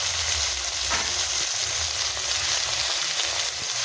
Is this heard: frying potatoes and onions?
yes